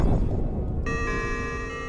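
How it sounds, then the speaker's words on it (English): A bell rings at the Gizmo shop in Kingdom Hearts, a clear sustained metallic tone with bright overtones striking suddenly and ringing on over a dense, rumbling game background. "Bell at the Gizmo shop is ringing."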